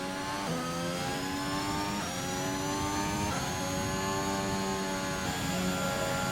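A Formula 1 car in F1 2021 roars through repeated upshifts, its high engine pitch climbing and dropping in steady waves, loud and close and continuous without any voices.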